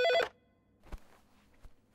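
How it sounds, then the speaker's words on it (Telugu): In a scene from the Telugu film Dil Deewana, a brief electronic telephone ring sounds once, then gives way to near silence with a couple of soft thumps. "రింగ్ అవుతుంది"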